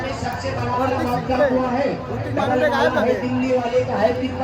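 Busy crowd chatter at the Mhasa yatra fair, many overlapping voices forming a steady near babble with individual speakers standing out.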